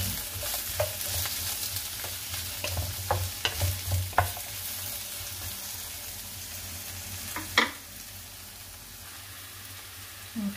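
Onions frying in a pan for sweet and sour fish escabeche, a steady soft sizzle with a utensil stirring and scraping at intervals, one sharper clack partway through.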